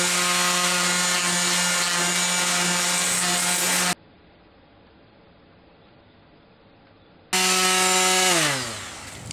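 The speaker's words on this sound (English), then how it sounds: "So this is sanding that chopped strand mat that I laid over the edge of this panel." A power sander works over fiberglass chopped strand mat laid across a panel edge, a loud steady whine with strong harmonics that stops for a few seconds, then starts again and winds down near the end.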